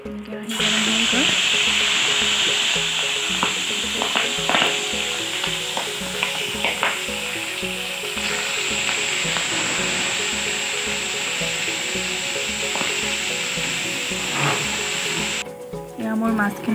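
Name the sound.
frying singi fish in a hot wok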